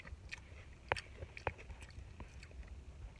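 Crunchy sweet-and-salty kettle-corn-style snack being chewed close up, a few sharp crunches standing out over soft mouth noise, with no talking.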